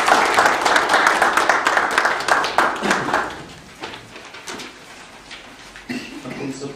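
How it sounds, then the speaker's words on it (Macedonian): Applause at a municipal council session in Kratovo, a dense round of clapping from the room that fades after about three seconds, leaving scattered claps and voices. "Дамо аплауз."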